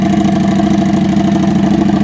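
A Harley motorcycle engine idles steadily up close, a loud, even low rumble with a fast regular pulse and no revving.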